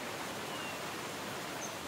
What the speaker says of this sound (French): les chutes de Todoroki rassemblent 99 cascades presque inconnues du reste du monde